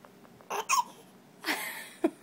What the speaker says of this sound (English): You got the hiccups from chocolate ice cream.